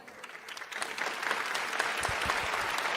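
Church congregation applauding after a sermon, a crowd of hand claps that starts thin and quickly swells into steady, dense clapping, fairly distant and with no talking over it.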